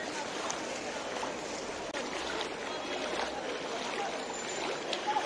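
Fast-flowing floodwater on Public School Road in Bilpar, Silchar, Assam, rushing as a steady, broad roar that stays constant with only slight swells.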